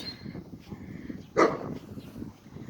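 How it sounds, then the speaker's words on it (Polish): A dog gives a single short bark at mid-distance, standing out over a low outdoor background of faint rustle and hum. "To jest piesek."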